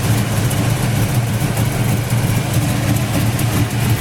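A 1967 Dodge GT with a high-horsepower 360 V8 and aluminum heads idles steadily, giving a loud, even, close rumble with no change in revs.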